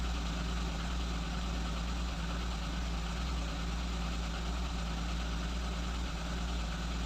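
A Lada Kalina engine idles unevenly with a misfire, its revs wandering up and down in a steady low drone that runs continuously and alone throughout.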